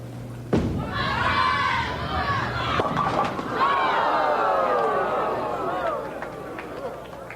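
A bowling ball slams into the pins at a 1988 PBA professional tournament, a sharp crash followed by clattering and crowd murmur and applause, with a commentator talking over it.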